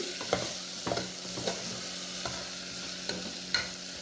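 Rice, dal and moong dal stirred together in a pot for masala khichdi, producing steady scraping and swishing strokes with a soft sizzle beneath, close and continuous, with no talking.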